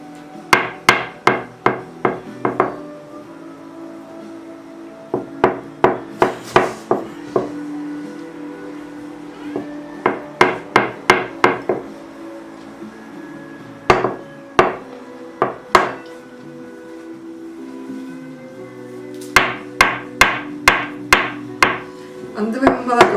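A child bangs a spoon in bursts of rapid, sharp knocks, with short pauses between the bursts. Some strikes may come from a hammer used alongside the spoon. Soft voices murmur in the background.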